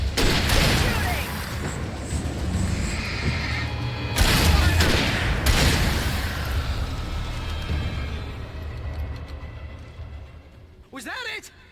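Gunfire in the horror action game Alan Wake, a loud burst of shots and heavy booms mixed with crashes, with frantic voices talking over it and a softer tail toward the end.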